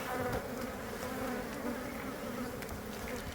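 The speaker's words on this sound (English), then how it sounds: "there's one that's very persistently buzzing right here" Honeybees buzz close by during a hive inspection, a steady droning hum with one persistent bee whining near the listener, fairly soft and with no voices.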